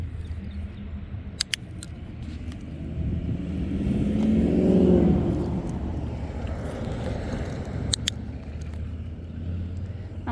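Heavy truck rumbling past on a street, its engine swelling from a low distant drone to a loud peak midway and then fading off, with faint clicks and wind noise around it and no talking.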